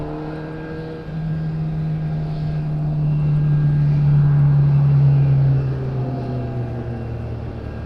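An airliner at Madeira Airport starts its engines during pushback, a low droning hum that swells to a steady, moderately close roar and then eases slightly.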